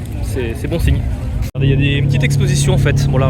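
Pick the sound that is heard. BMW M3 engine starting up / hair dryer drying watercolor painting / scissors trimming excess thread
BMW M3 engine starting up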